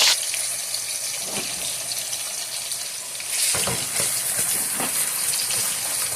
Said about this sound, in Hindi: इसमें सबसे पहले हम प्याज डालेंगे। बिस्मिल्लाहिर्रहमानिर्रहीम गरम करके तो इसमें प्याज डालेंगे।